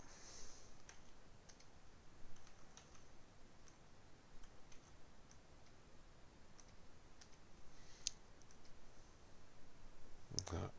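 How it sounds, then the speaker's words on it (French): A computer mouse clicks steadily while someone works in Illustrator, giving a string of faint, sharp, close clicks spaced through the quiet with an irregular rhythm, with no speech. "Je clique une fois"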